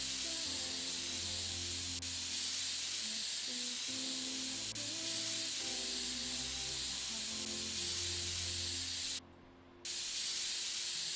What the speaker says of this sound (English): Okay, compressed air.